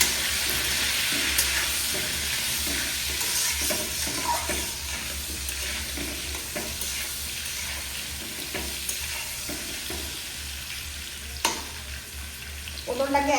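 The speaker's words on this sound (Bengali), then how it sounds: "পটলটাকে একদম ধিমে আঁচে ভাজতে হবে" Pointed gourd (potol) seasoned with turmeric and salt, frying over low heat, gives a continuous soft sizzle and hiss with occasional spatula scrapes and stirs, close and steady, with no talking.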